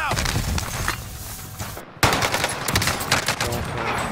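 Gunfire in the Call of Duty Warzone video game, with dense, loud rapid shots and bursts throughout, a brief cut near the middle, and a player talking over it.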